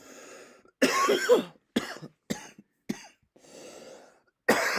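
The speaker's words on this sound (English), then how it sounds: "Apologies for all the coughing on here." A string of harsh coughs and throat-clearing bursts, close and loud, separated by short quiet gaps.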